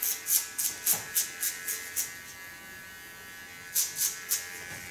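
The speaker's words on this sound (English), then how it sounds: "With a small clipper I clean the contour line." Small electric hair clipper trimming the neckline contour of a man's haircut, buzzing in a run of short rhythmic bursts, then a pause before a few more strokes, close and clear with no talking.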